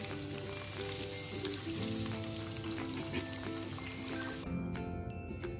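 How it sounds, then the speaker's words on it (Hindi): Chicken 65 pieces fry in oil over medium heat, making a faint continuous sizzle and crackle under soft tonal background sounds that drop away near the end. "अब हमें इसको मीडियम पे पकाना है ताकि हमारी चिकन जो है वो अंदर तक से पक जाए बिल्कुल।"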